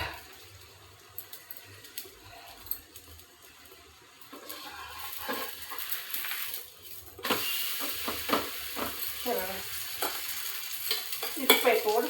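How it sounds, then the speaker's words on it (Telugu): Food frying in ghee sizzles and crackles close by, quiet at first and then louder and denser in the second half, with light scraping of a utensil now and then. "ఇటుపైపు కూడా నెయ్యి వేసుకోవాలి."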